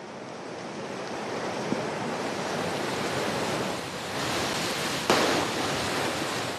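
A steady, broad roar of the swollen Berkovska River in Bulgaria fills the clip, loud and unbroken, with a brief splash or knock near the end.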